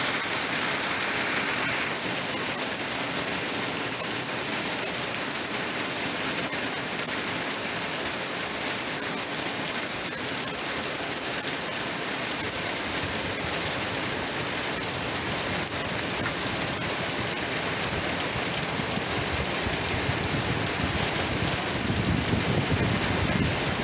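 Heavy rain pours down in a steady, dense hiss beside a running creek, the broadband wash holding constant and loud throughout with no voices.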